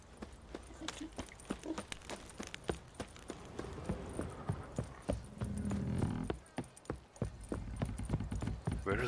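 Hooves of a horse in The Witcher 3 video game clip-clop in a steady walking rhythm, crisp repeated hits heard fairly close and alone over a quiet background.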